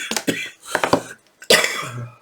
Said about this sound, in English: All this talking's making me cough even more.